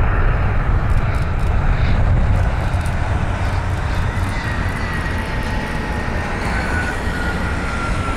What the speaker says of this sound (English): Hawker inbound.